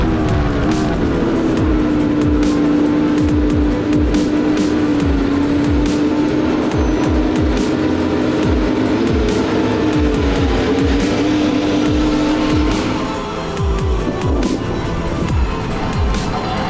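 Aston Martin Formula 1 car leaving the pits on an installation lap and coming straight back in, its loud high-revving engine whining steadily close by, with tire squeal and passing-car sweeps, no speech.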